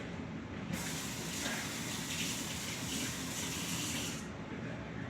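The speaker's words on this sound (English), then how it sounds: "Quick rinse at the sink." A kitchen sink tap runs for a quick rinse of sliced food, a steady close hiss of water that switches on, pours evenly for about three and a half seconds, then stops.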